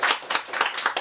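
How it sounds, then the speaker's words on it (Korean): A church congregation at a Sunday afternoon service gives a short burst of clapping, quick close claps in an uneven rhythm lasting about a second. "우리 박수 한번 부탁드리겠습니다."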